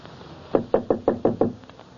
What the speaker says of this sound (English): I heard a knock on the door.